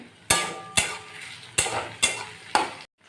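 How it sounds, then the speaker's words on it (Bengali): Onions frying in a pan for a mutton curry, with five sharp scrapes of a spatula stirring against the pan at a steady pace over a soft, continuous sizzle, close and fairly loud. "এদিকে আমার পেঁয়াজটা ভাজা হচ্ছে"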